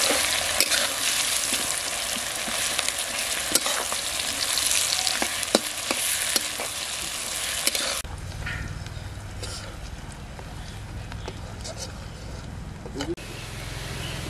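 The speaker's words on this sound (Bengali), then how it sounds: "পেঁয়াজটা ভাজা হয়ে গেছে" Chopped onions fry in oil with bay leaf, whole cumin and cardamom for a duck and taro root curry. A dense, steady sizzle fills the pan, then turns softer and quieter partway through.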